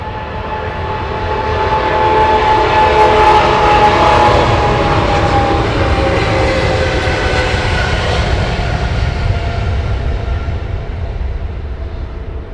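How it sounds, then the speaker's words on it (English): Airliner jet engines at Heathrow Airport make a loud, steady roar that swells over the first few seconds and then holds at full strength for about twelve seconds, with no voices. "Tell me you don't enjoy the noise of those engines."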